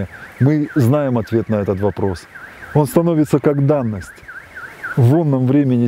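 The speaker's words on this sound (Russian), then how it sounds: "На фоне вот звуков природы и звука сигнализации где-то там" A car alarm warbles steadily somewhere in the distance, its repeating rising-and-falling electronic tone running throughout beneath someone talking close by.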